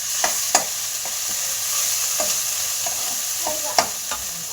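Ginger garlic paste fries in a pan with a steady sizzle, broken by sharp clinks and scrapes as it is stirred, close and fairly loud, with no talking.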